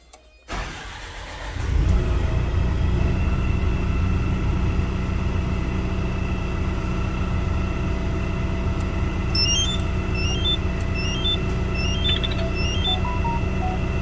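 A Volvo 140E excavator diesel engine cranks and fires after a brief quiet start, then settles into a steady, loud idle that runs on without interruption, with faint high beeping tones near the end.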